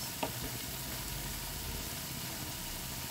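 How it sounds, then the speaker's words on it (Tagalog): Butter garlic sauce for squid sizzles steadily in a pan, a continuous close frying hiss with faint stirring scrapes and no talk. "kailangan nating lutuin muna yung ating sauce."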